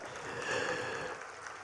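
An audience at a 2023 national education policy discussion session in Maharashtra applauds, a dense, even wash of clapping that sounds somewhat distant and holds steady throughout without voices.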